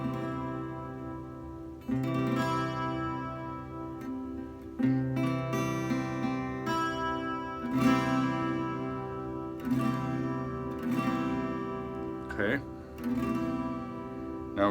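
A 12-string guitar plays a basic beginner chord, strummed several times in a row, each ringing and decaying before the next strum, at close range with no talking.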